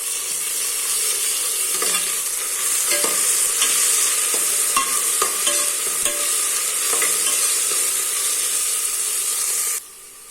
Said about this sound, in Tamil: ஃப்ரெஷ்ஷாக இதில் போட்டு இதை நல்லா வதக்கிடலாம்.